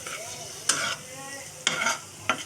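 Chicken meat frying with ginger and garlic for a chicken sandwich gives a quiet background sizzle. Three sharp, brief scraping strokes from stirring stand out over it at a steady pace, and there is no speech.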